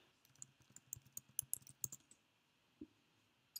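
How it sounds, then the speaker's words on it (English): Computer keys are tapped in a quick irregular burst of light clicks, then a pause and a couple of final presses, faint and close, while a password is entered on a Mac. "I'm going to type mine in."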